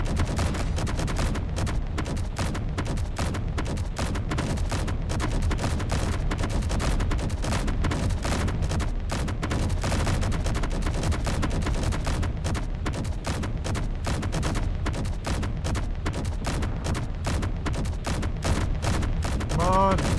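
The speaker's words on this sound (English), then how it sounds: "Stop shooting me." Rapid, sustained video game gunfire from Gatling-style guns, a dense stream of shots hammering without pause for about twenty seconds, with a voice talking faintly underneath.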